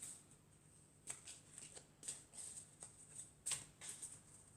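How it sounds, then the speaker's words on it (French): Oracle cards drawn and shuffled from a deck, soft papery slides and flicks in a quiet room, faint and close, several brief rustles with no talking. "je vais prendre une carte de l'oracle des elfes."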